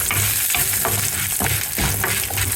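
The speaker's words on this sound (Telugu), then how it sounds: "సో కొంచెం హింజ్ యాడ్ చేద్దాం" Asafoetida (hing) frying in hot oil for a basil chutney, a steady close sizzle and crackle with periodic stirring scrapes that recur every half second or so, with no talking.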